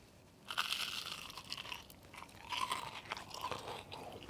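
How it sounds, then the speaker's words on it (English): Crisp, close crunching comes from biting and chewing beer-battered onion rings dipped in a Southwest sauce, with several brittle crackles and soft chewing between them and no talking. "let's go ahead and listen to that crunch"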